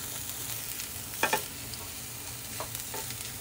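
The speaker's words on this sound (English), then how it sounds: "if you want to get the onion fried a little bit faster" Onions fry in a pan with a soft, steady sizzle, broken by a couple of brief utensil scrapes near the middle and a faint clink later.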